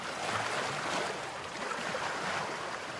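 Ocean waves washing against the rocky Yehliu coast in Taiwan, a steady broad rush of surf heard up close and continuous, with no speech over it.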